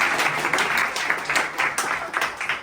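Applause at a farewell evening for an Azerbaijani activist leaving Poland for England: a steady patter of clapping hands, moderately close, without a break for almost three seconds.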